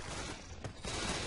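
A weapon reload in the zombie shooter Left 4 Dead 2, a short burst of clicking, ratcheting mechanical clatter heard up close over dense game noise, with no voice.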